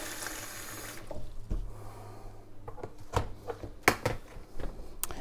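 Running water from a sink tap beside painting brushes, a steady hiss for the first second followed by scattered clinks, splashes and knocks near the basin.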